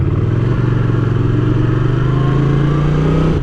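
A Honda GL500 motorcycle engine running after an intake manifold repair, a steady loud idle with a throbbing, slightly clattery pulse and a brief blip of revs, close by.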